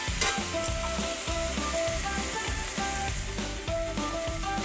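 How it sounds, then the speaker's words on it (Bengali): Spices and poppy seed paste fry in a pan for a Bengali banana-flower dish, a steady loud sizzle running throughout with repeated scraping strokes of a spatula and faint background music tones. "এবার আমি পোস্ত সমেত মশলাগুলোকে আবার একটু কষিয়ে নেব।"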